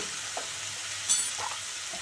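Ginger fries in a pan for a chicken curry, a quiet continuous sizzle broken by a few soft stirring scrapes and a brief bright clink partway through.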